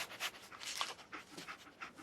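A dog panting in Fallout 4: quick, breathy pants in a steady rhythm of short bursts, close and fairly faint, with no voices over it.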